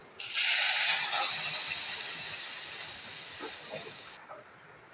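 A loud burst of steam and hiss as water hits a hot pan of paneer gravy, fading slowly over several seconds and cutting off near the end.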